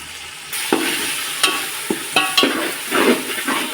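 Coriander and mint leaves stir-frying in a pan for chicken biryani, a steady broadband sizzle from about half a second in, broken by scraping stirs roughly every half second, close and fairly loud with no voices.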